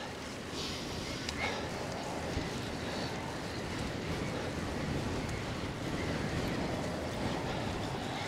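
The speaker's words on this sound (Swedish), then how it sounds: "Ja, det blåser duktigt nu." Strong wind of around 10 metres per second blows against a cyclist while riding, producing a constant, loud buffeting roar across the microphone with no break.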